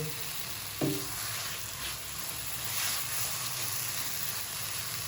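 Besan halwa roasting in ghee, a steady low hiss and soft sizzle running throughout with faint stirring, quiet and continuous.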